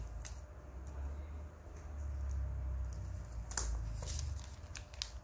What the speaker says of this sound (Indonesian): Kita selotip bagian dalam sini.